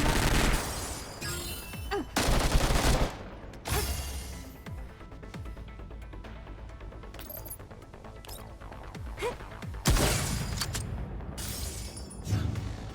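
Game gunfire and impacts in the tactical game Girls' Frontline 2 come as a few loud, sharp bursts spread across the stretch, separated by quieter passages with faint game ambience.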